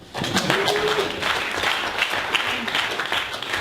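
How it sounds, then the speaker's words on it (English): Applause from an audience at a local tech meetup, a dense, continuous sound of many hands clapping that starts abruptly and holds steady, with faint voices mixed in. "Give yourselves a round of applause for coming out and supporting innovation."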